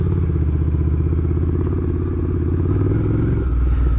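Ducati Scrambler motorcycle fitted with a LeoVince exhaust, a steady loud low rumble from a nearby engine at idle or low revs, running continuously with a slight shift in tone near the end and no voices.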